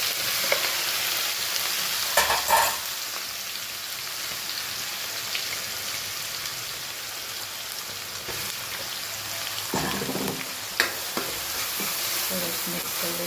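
Cumin, garlic, onion, tomato and chilli stir-frying in a pan, a steady close sizzle with scraping stirs and a couple of louder clatters, no talk.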